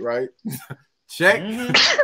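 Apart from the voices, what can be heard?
sneeze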